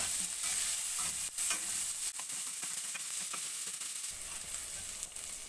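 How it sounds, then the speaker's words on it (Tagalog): Garlic, onion and long green chili sautéing in a pan, a close, steady sizzle broken by several sharp stirring scrapes and clicks. "Bawang sibuyas, siling haba."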